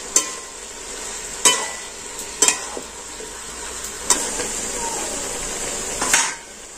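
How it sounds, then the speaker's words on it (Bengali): Poppy seeds being stirred and fried in a pan for a pumpkin and shrimp dish, a steady sizzle with several sharp clacks of the spoon against the pan at irregular intervals. "এখানে পোস্ত, এটাকে আমি নাড়াচাড়া করে কষিয়ে নেব।"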